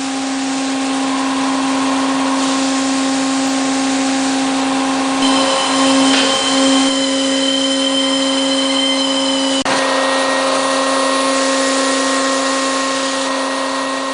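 A McLean Scissor Bolter mining machine tilts its boom down into the deck, a loud steady hydraulic whine with strong humming tones that shift pitch partway through and keep going without pause.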